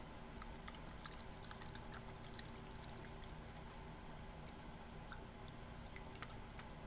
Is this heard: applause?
no